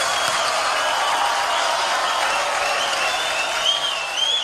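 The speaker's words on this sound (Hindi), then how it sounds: "एक बार जोरदार तालियां पूरे" Steady, dense applause from a large crowd, continuous and fairly loud throughout with no voices standing out.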